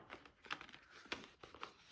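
Soft crinkling of a small plastic packet in several short bursts, quiet and close, with brief pauses between handling noises.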